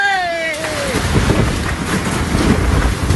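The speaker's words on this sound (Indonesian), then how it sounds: "hujan deras disertai angin kencang tiba-tiba menerbangkan atap bangunan" Heavy rain and strong wind in Banjarnegara, Central Java, roar in a dense continuous wash with buffeting gusts, loud and close, after a brief tonal sound fades at the start.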